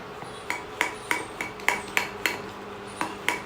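Dhokla batter with fruit salt (Eno) mixed in a bowl, regular clinking taps of a spoon against the vessel about three per second over soft stirring, close and alone.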